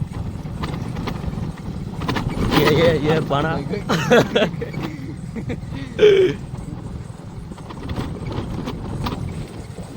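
A mare's hooves clop along a dried-up village riverbed in a rough, uneven rhythm under steady outdoor noise, while people talk and call out nearby.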